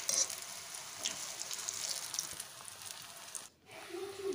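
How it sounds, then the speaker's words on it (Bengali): Lentil fritters (rosh bora) frying in deep oil, a soft steady sizzle and crackle, faint and continuous with a brief gap near the end. "আর এই বড়া অবশ্যই ছাঁকা তেলে ভাজতে হবে।"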